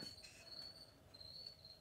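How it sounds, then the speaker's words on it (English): Crickets chirp in a continuous, even trill, faint and distant, carrying steadily through the whole stretch with no voices. "We have the crickets singing background music for us."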